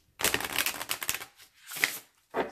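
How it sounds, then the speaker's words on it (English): A 32-card Santa Muerte oracle deck being shuffled by hand, a close papery riffle in a long burst, then two shorter flicks after a pause. "It shuffles like a dream."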